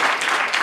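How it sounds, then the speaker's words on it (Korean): Audience applause at a book launch and talk concert in Sejong, a dense, steady wash of clapping that fills the short moment without a break. "박수"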